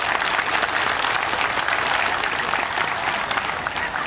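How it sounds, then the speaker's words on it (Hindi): Loud, sustained applause from a crowd at a Sarna prayer gathering in Rourkela, honoring community leaders; dense, steady clapping throughout with no break. "एक बार उन तमाम अगुवाओं के लिए एक बार जोरदार तालियों के साथ उनका सम्मान करेंगे"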